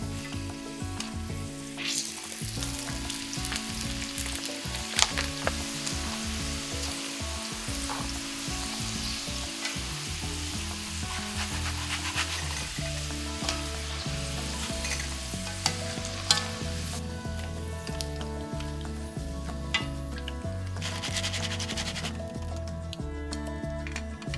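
Steady crackling sizzle of potatoes deep frying in hot oil, continuous and close, with occasional clinks and stirring noises over a dense bubbling hiss.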